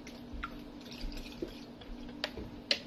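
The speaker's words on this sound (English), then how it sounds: "So I will add water here." Water being poured into homemade tahini sauce for a Lebanese sea bass dish, heard as faint, scattered drips and small splashes against a quiet kitchen background, with no talking.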